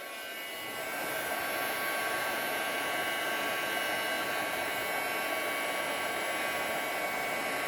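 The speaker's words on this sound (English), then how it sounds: "You want to let your heat gun get hot." A heat gun starts up and settles into a loud, steady blowing whir that runs unbroken for several seconds.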